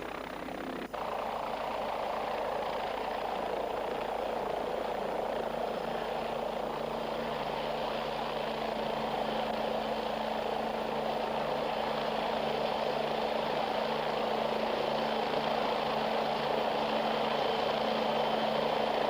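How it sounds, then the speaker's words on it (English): A military helicopter drones steadily and loudly throughout, its engine and rotor roar constant with no break, a faint click near the start. "The helicopter then moves on to another position to tackle another tank."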